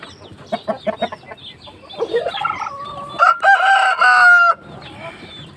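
An Aseel rooster crows loudly and close by, its call ending in a long drawn-out note, preceded by a few short clucks.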